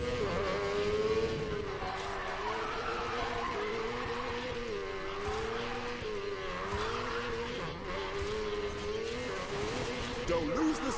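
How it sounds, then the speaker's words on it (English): A drifting car in the Need For Speed Payback video game: a loud, continuous engine roar that rises and falls with revving, mixed with steady tire squeal across the whole stretch. "Do not lose this drift, Mac."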